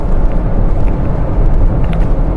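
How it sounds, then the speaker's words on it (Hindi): Steady broadband road and engine noise inside a Maruti Swift cruising at high speed, a continuous loud rumble with no speech over it. "हाई स्पीड में जब ये गाड़ी जा रही है, हालांकि काफ़ी रिफाइंड इंजन है, तो फिर भी देखिए थोड़ा बहुत आवाज़ आती है अंदर"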